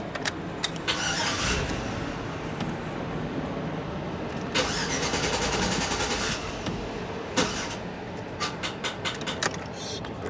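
A Chevy SUV's starter cranks the engine while powered by a TOPDON JS2000 2000A battery jump starter, a steady whirring churn that runs for several seconds, pauses, then resumes, with brief clicks and a person speaking faintly in the background.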